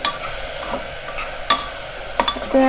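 A utensil gently scrapes and stirs grated carrot in a pan for carrot halwa, a few sharp clinks over a soft sizzle, close by with no talking.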